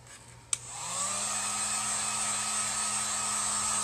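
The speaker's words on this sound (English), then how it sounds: "I'm going to go ahead and dry this with my heat gun" A heat gun drying paint on a wooden acorn cutout switches on with a sharp click and spins up into a steady, close, loud whooshing blow that holds without pause.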